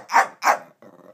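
A dog barks twice in quick succession, loud and close, followed by a softer, lower growl-like rumble, with no talking over it.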